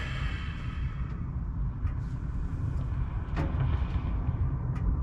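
A 6.0L engine with electronic fuel injection idles steadily and close by, a continuous low rumble with a few faint clicks and knocks over it and no talk.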